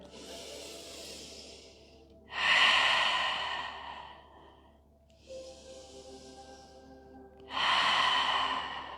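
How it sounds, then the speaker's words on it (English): Lion's breath yoga exhalations: two long forceful breaths out through the mouth, each a loud airy roar, with quieter inhales between them and no talking. "Breathing in, lion's breath."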